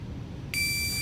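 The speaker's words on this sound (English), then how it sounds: "He's going to react to the timer and see if he can punch the bag in 1 second. He'll stop punching when the second tone goes off." A loud electronic timer beep starts halfway through and holds steadily, marking the start of a one-second heavy-bag punching drill, with no talk over it.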